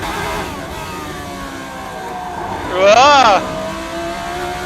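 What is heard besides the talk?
race car engine accelerating through gears at Monaco, racing video game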